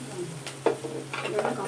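A short burst of sautéing in a pan at a home kitchen stove, a brief spoon scrape and soft sizzle before asafoetida goes in, with a voice talking over it.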